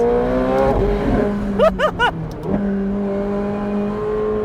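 McLaren 750S Spider engine and exhaust heard from the cabin, a steady drone broken by a quick run of sharp pops and crackles as the gearbox shifts, then the engine note settles back.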